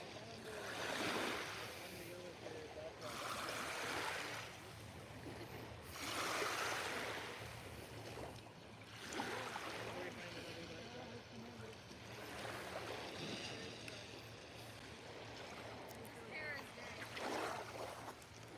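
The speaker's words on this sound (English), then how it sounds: "the sound of the water hitting the edge of the beach" Lake Erie waves wash onto the edge of a beach at sunset in slow, repeated surges every few seconds, with a continuous wind-blown outdoor roar and a voice talking at times.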